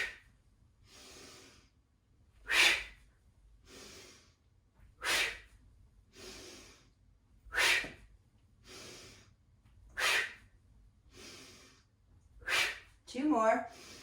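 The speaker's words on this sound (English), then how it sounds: "a sharp exhale out the mouth" Sharp exhales through the mouth during a guided breathing exercise with squats, nine forceful breath bursts at a steady rhythm of about every two to three seconds, close and alone over faint quiet background.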